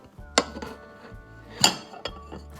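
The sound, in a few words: plate placed on top of a bowl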